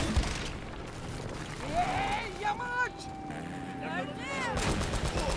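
Gunfire in the action game Uncharted: Drake's Fortune, bursts of shots and impacts amid game noise, with people talking over it.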